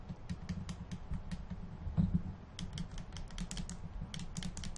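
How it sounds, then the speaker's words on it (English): Rapid keyboard clicks from a computer keyboard during a home flight-simulator session, light irregular bursts of typing close by over a steady low hum, with pauses between runs of keystrokes. "Sorry for the clicking, I know you guys hate that, but I can't help it"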